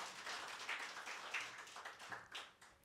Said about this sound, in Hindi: तालियां बजाओ एक बार इनके लिए